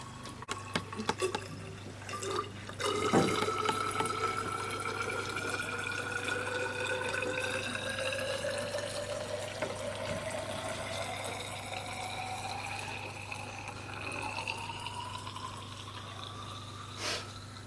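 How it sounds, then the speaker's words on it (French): Water poured from a wash bottle into a graduated glass cylinder while measuring 100 ml, a steady liquid stream with a rising filling tone over a low constant hum, fairly close and alone. "je vais verser 100 ml d'eau dans une éprouvette graduée à l'aide d'une piscette"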